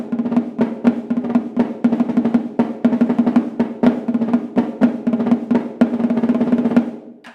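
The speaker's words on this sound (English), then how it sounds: "This is a 14-inch marching bass drum." A 14-inch marching bass drum struck in a steady series of roughly a dozen booming hits, each with a sharp attack and resonant low ring, played close and loud with no talking.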